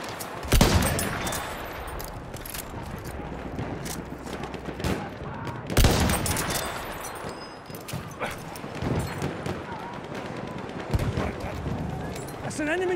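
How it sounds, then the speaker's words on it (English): Gunfire crackles in repeated bursts during a Battlefield 1 round, with two sharp loud volleys standing out against continuous battle noise while voices shout over the fighting. "Machine gun!"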